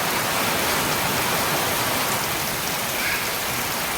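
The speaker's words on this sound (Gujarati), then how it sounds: "વરસાદ આવે પવન આવે છે." Steady rain falls with wind near mango trees, producing a dense, continuous hiss that stays even and loud throughout, with no voices.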